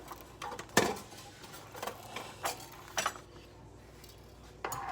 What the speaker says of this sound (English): I'm just going to grab my whisk.